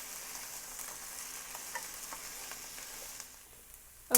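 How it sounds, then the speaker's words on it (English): Onions and meat sautéing in a pan on a stove set to high for Yemeni beef kelabah, a steady broadband sizzle holding evenly throughout, easing slightly near the end before a short louder clatter. "I pretty much have the stove on high right now so that I can wilt the onions and start sauteing the meat"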